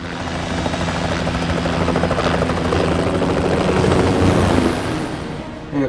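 A Jet Ranger helicopter flies close by, its steady rotor chop and engine whine loud and continuous throughout.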